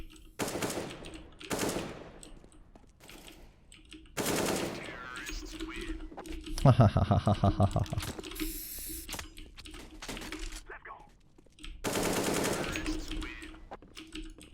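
An automatic rifle sprays in a first-person shooter video game, a rapid burst of about a dozen shots in the middle, with other single cracks and mechanical clicks around it and a voice speaking in between.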